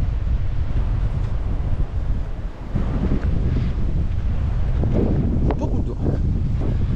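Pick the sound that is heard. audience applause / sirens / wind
wind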